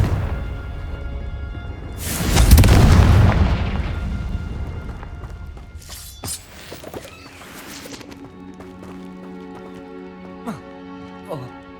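A Confringo spell blast in Hogwarts Legacy bursts out loud and close in a single booming explosion that rumbles and fades, followed by scattered smaller pops and crackles.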